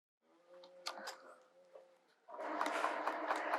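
A sewing machine stitches a quilt block, first in short stop-start bursts and then in a steady faster run. Voices come in faintly around the motor.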